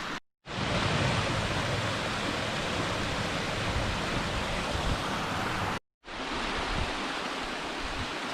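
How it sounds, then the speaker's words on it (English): Waterfall cascades in the Wichita Mountains pour in a steady, loud broadband rush, close and continuous, with two brief cutouts of silence. "Cascades are pretty cool."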